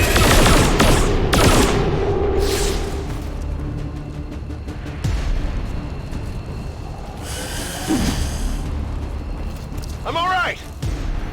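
Gunfire rattles in XCOM 2: War of the Chosen, with sharp bursts at the start and scattered shots and impacts later, mixed with game effects and voices speaking over the action.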